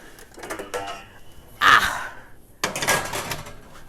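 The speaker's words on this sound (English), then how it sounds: "But I will put them in the oven." A metal tray of hamantaschen slides into an oven, with clattering scrapes and a sharp metallic clank, followed by a short rattle and the rumble of the oven door being handled.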